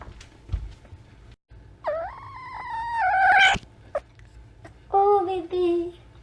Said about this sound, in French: Petit chat qui arrive.